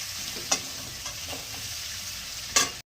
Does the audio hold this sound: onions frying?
yes